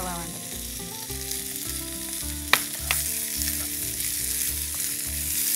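Onions and tomato sauté in a pan for beef curry, a loud close sizzle running throughout with a couple of sharp stirring knocks midway; no voices.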